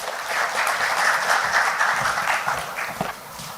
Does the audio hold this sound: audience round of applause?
yes